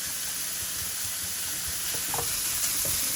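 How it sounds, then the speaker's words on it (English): Bacon sizzles steadily in a pan while a wooden spoon stirs it, a constant bright frying hiss with a few soft scraping strokes near the end, close and alone. "use your wooden spoon"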